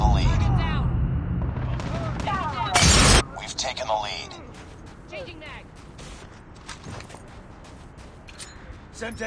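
Flashbang, Semtex and frag grenades go off in Call of Duty Mobile on the Nuketown Russia map, with one sharp loud burst among busy game noise and voices, followed by scattered smaller cracks.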